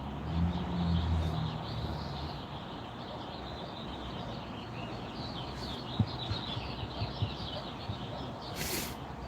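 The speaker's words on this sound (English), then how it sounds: "this is such a rarity for me to even hear a bird" Birds chirping at sunset, faint scattered calls over a steady outdoor hiss, distant and soft with occasional brief clicks.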